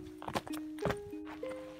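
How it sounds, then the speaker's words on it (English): Footsteps crunch on a lava flow trail in Idaho, a few distinct steps close by in very quiet surroundings, with a faint tonal hum underneath. "This place is so quiet that we can hear our footsteps."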